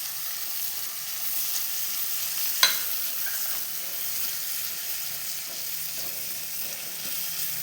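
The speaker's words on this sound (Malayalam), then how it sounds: "ഉള്ളി വേഗം വഴന്ന് കിട്ടാൻ ഞാൻ കുറച്ച് ഉപ്പിട്ട് കൊടുക്കുന്നുണ്ട്" Onion, ginger and garlic sauté in a pan for vegetable kurma, giving a steady, close sizzle throughout, with a single sharp utensil clink early on.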